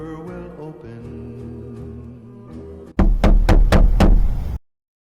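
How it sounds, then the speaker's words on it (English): After soft music, five heavy knocks land on a door in quick, evenly spaced succession. They are loud and close, and then silence follows. "Knock and the door will open."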